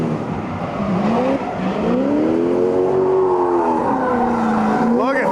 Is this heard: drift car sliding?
yes